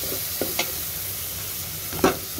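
Eggplant and potato frying in a pan give a steady sizzle, with a few soft clinks and scrapes as the pieces are stirred, heard close with no talk.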